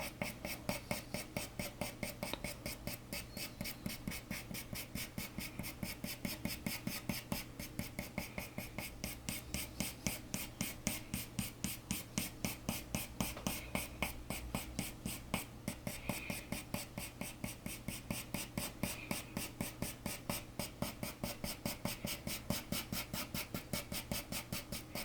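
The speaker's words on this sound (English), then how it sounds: "I'm using a pencil, so I'm using it straight and on its side" A pastel pencil drawing on paper, used both upright and on its side to draw long brown fur, making a steady rhythmic scratching of quick back-and-forth strokes, close and continuous throughout, with no talk.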